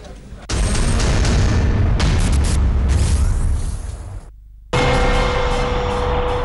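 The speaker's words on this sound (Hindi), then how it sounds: "पहला धमाका" A loud, sustained roaring blast of PETN explosive fills the air for several seconds, drops off, then a second burst of noisy rumble follows.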